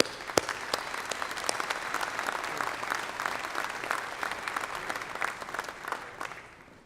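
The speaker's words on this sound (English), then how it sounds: "Can you please provide the platform party a round of applause and thank you." A graduation audience at Northwest Missouri State's spring commencement applauds the platform party with a steady, full round of clapping that tapers off at the end.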